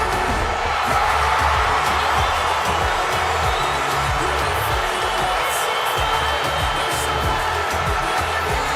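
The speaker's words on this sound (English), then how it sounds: "So you see, listen to this ovation here. Listen to this crowd." A wrestling arena crowd gives a sustained ovation, a steady roar of cheering and applause filling the hall with scattered whoops, loud and continuous throughout.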